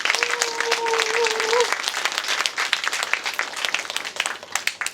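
Audience applause for a professor introduced as a lecturer at a Korean forum on Silhak, Earth jurisprudence and constitutional reform: dense steady clapping throughout, with a brief tonal sound early on and no talk over it.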